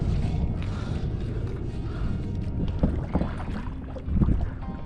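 A fishing kayak is paddled near a dam. Steady wind and water rumble runs throughout, with a few soft paddle splashes and knocks near the end, close to the microphone.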